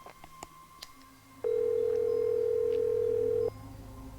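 A telephone in the Nancy Drew game The White Wolf of Icicle Creek gives a single steady electronic tone lasting about two seconds over faint background noise.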